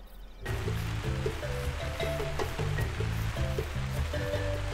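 Rain falling in the hunting game Call of the Wild, a steady broadband wash of rainfall heard close behind a repeating tonal melody of game music.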